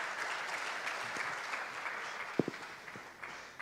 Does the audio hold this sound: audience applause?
yes